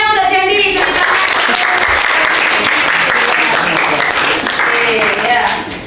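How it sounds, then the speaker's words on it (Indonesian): A classroom of students applauds a classmate, a dense burst of clapping that is loud and close, fading near the end. "Tepuk tangannya untuk Dendi."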